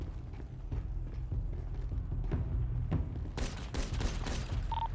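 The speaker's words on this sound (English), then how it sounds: "they're shooting outside Burger Shot right now" Gunfire crackles outside Burger Shot in a GTA roleplay game, a dull rolling fusillade of distant pops that grows into a louder, sharper burst of shots near the end, with no talking.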